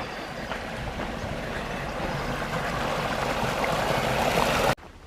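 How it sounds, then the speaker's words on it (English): Small stream flowing beside a walking track, a steady close rush and trickle of water that holds evenly before cutting off abruptly near the end. "A decent little stream."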